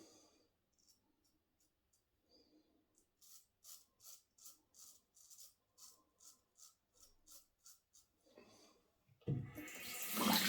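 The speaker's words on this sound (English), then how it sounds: "you can just rinse it off under the tap" A Feather Artist Club SS shavette rinsed under a running tap: a series of soft rhythmic rasping strokes, then a sudden loud close rush of water at the end.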